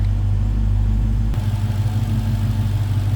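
The 6.2-liter supercharged Hemi V8 of a 2015 Dodge Challenger SRT Hellcat idles close by with the hood open, a deep, steady rumble whose character shifts slightly a little over a second in and keeps a pulsing throb.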